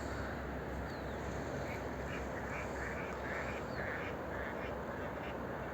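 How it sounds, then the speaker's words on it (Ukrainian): Wild ducks in flight quacking repeatedly in the distance over a steady roar of wind or rushing water by the Stryi River, the calls faint but clear and continuing throughout. "О, дикі качки полетіли."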